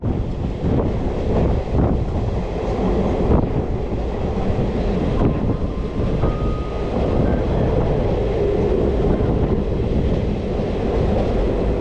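Vanchinad Express rumbling into Kollam Junction, a steady close roar of wheels and carriages with rushing wind noise throughout and a faint brief squeal partway through.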